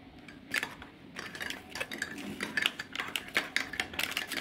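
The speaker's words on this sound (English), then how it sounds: "I am just putting into my mug of milk and going to give it a good stir" A spoon stirs an instant hazelnut coffee cube into a mug of milk, giving a rapid run of light metallic clinks and scrapes against the mug, close and fairly quiet with no talking.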